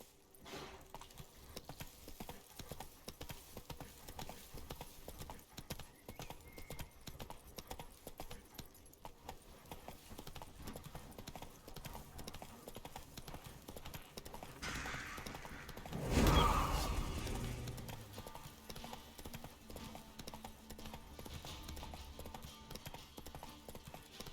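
Roach, a horse in The Witcher 3, trots with steady clip-clopping hooves over a continuous game background, with a brief louder thump partway through.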